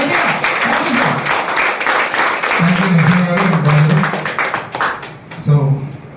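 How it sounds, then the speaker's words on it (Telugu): A crowd applauds at a public event in Vijayawada, the clapping a steady broadband patter running the whole time while a voice talks over it in the middle and again near the end. "ముఖ్యంగా మన విజయవాడకి వెళ్ళి స్పెషల్ మీకోసం వచ్చే సీఎం గారు గట్టిగా క్లాప్స్."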